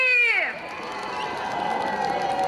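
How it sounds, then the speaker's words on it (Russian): A crowd cheers and applauds a village folk ensemble at an outdoor anniversary celebration, a steady wash of claps and shouts continuing after a host's voice fades out at the start. "Бурными-бурными аплодисментами провожаем ансамбль «Мрия» из село Пономаренки!"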